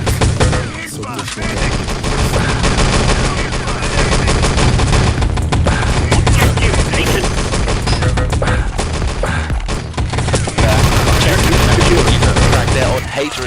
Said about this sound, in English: Robo gets an MP40 frag down on Drago